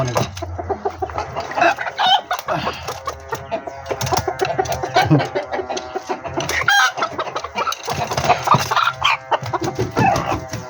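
Serama chickens cluck busily and close by, with a rooster crowing through the noisy barnyard chatter; no talking.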